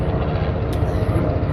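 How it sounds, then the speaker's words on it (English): An airplane passes overhead, a steady, loud, broad engine roar that holds even throughout, with no voices over it. "I hope this airplane is not too loud for this."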